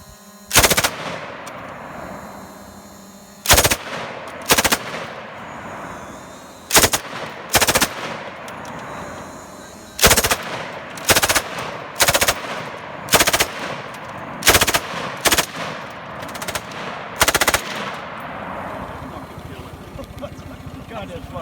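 An MG 34 machine gun mounted with a 1942 Zündapp motorcycle fires in loud, sharp bursts and single shots spaced irregularly over about twenty seconds, each crack ringing out over a steady rumbling background.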